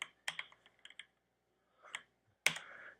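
Keys on a computer keyboard clacking in short irregular runs, a few soft taps then a louder final key strike, close and alone against a silent background.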